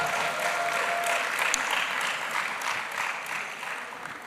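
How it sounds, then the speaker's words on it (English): Steady applause from a crowd, many hands clapping continuously at a moderate level with no break. "Please keep that applause coming as he makes his way back to his seat, Mr. Edgar de Cocker."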